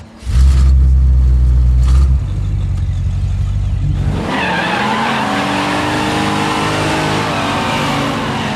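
A car drives off with a loud revving roar and screeching tires, then its engine note rises and settles into a steady pulling drone as it goes.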